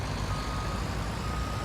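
Volvo truck hauling sugar beet in Farming Simulator 19, a steady loud engine drone with a faint repeating reversing-beep tone running through the whole stretch.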